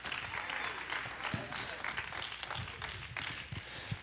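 A church congregation of cancer survivors applauds and claps hands, a steady, dense wash of clapping filling the space throughout, with some voices mixed in.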